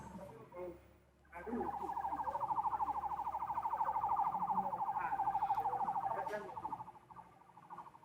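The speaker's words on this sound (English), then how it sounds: "I can hear the sirens blaring" A wailing siren rises out of background noise and holds for several seconds before fading, with muffled sounds around it.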